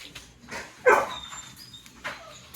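A Rottweiler lets out a few short whimpers and one sharper yelping bark nearby, in a quiet indoor room.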